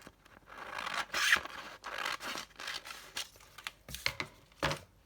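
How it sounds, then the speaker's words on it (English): A vellum page for a boho junk journal is folded to size by hand, making a string of close, crisp paper scrapes and crinkles in short irregular bursts. "So let's do our vellum page. Just fold that one in half."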